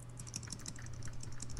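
Computer keyboard keys are tapped repeatedly in quick succession, close and fairly soft, the rapid clicking of presses that trigger sticky keys, with no one talking.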